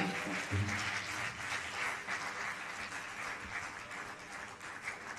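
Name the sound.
audience applauding while standing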